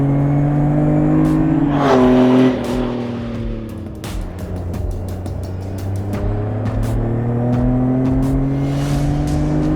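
An Adamastor P003RL sports car engine revs hard to the limiter, pitch climbing steeply before a shift drops it, then building again; loud and close, with ticking clicks throughout.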